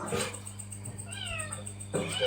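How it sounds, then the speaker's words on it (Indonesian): A cat gives a single drawn-out meow with rising and falling pitch, heard between bursts of nearby conversation over a steady low hum. "Tuh ada kucing"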